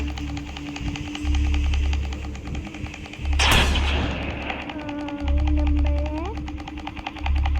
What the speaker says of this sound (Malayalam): അകത്തൊന്ന് വെടി വെക്കുന്നോളാ